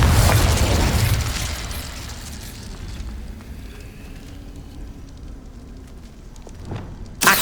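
Spell explosions from Confringo and Incendio in Hogwarts Legacy: a loud fiery blast at the start decays into a long crackling rumble, followed by a sharp second burst at the end.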